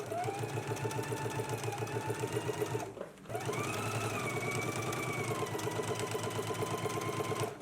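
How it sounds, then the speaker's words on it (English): A sewing machine stitches a jacket seam from shoulder to hem, running in a steady rapid hum with a brief pause about a third of the way through before resuming at the same pace. "So let's go ahead and stitch now, again from that shoulder seam all the way down to the lower end."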